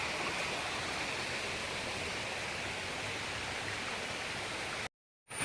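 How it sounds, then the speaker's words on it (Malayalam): Kocharikkal waterfall, part of the Areekkal falls, pours in a steady, dense rush of water that stays even and close throughout, then cuts out briefly near the end. "അരീക്കൽ വെള്ളച്ചാട്ടമാണ്"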